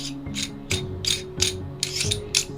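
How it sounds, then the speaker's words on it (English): Pieces of a Fotodiox macro extension tube being unscrewed, giving a series of close, crisp ratcheting clicks and gritty threaded rubs in roughly even bursts, with no talking. "It comes in a few pieces that you can unscrew from here."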